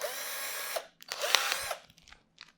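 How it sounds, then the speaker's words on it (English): A power drill whirs in two sustained bursts as it is used to cut open product packaging at a desk, its motor spinning up and winding down each time, followed by a few faint clicks and rustles. "We can use the drill to open up packages."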